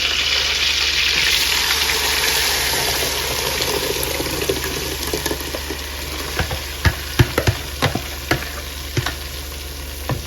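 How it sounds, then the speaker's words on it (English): Roughly blended tomato hits a hot frying pot for a Nigerian tomato stew and sets off a loud, steady sizzle. A burst of sharp spits and crackles follows as the sauce settles. "And then we go in with our tomato. Our tomato, see, is roughly blended."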